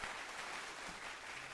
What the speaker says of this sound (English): that applause was horrible